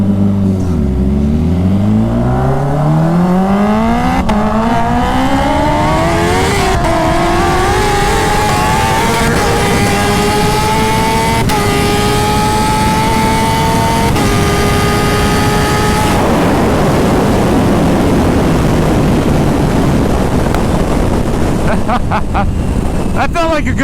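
A 300 whp Kawasaki H2 and a 500 whp turbocharged Kawasaki ZX14R run a half-mile drag race. Loud engines climb in pitch through repeated gear shifts, then give way to roaring wind noise at speed.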